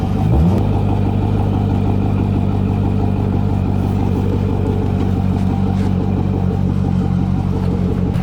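A C6 Corvette with a newly installed clutch pulls away, its engine droning loud and steady from close range as it accelerates, no talk over it.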